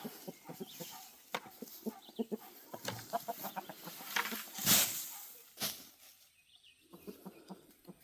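Chickens cluck and murmur in a busy, continuous chatter nearby, with a brief louder squawk and rustle partway through.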